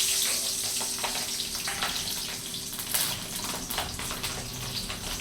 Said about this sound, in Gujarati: આપણે પેલા મરચાં 3-4 તળી લઈએ.